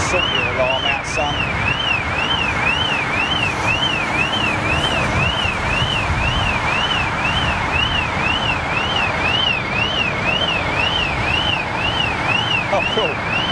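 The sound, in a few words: alarm sounding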